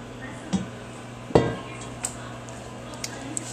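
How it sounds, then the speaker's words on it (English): Cooked pasta dropped onto Cajun chicken in a pan lands with one soft thud, then a few light clinks of a utensil against the metal pan follow. "Just go ahead, dump the pasta right on top."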